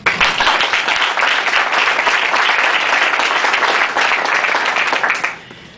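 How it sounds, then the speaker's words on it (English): A full round of applause from an audience, loud and dense clapping held steady for about five seconds before quickly dying away at the end. "if it wasn't for Jeremy, Jody, and Margie, who deserve a round of applause."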